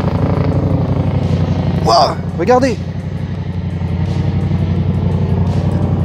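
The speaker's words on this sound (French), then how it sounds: "Ça c'est l'hélicoptère de l'hôpital." A hospital helicopter's steady rotor drone fills the scene throughout, fairly loud and constant, with a brief exclamation from a person partway through.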